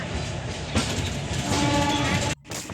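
A moving passenger train rumbles and rattles all around the listener, joined by faint tonal squeals from the wheels or brakes. A brief drop near the end breaks the steady noise.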